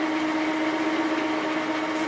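An ANMEC BL330E lathe runs at speed, giving a steady close motor whine with a sustained tonal hum and constant mechanical drone throughout.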